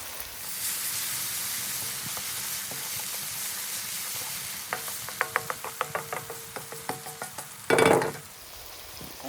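Chopped fresh ginger and garlic hit hot oil in a pan with a bright, steady sizzle, then a run of quick rhythmic ticks like a utensil tapping, and a loud hissing burst near the end.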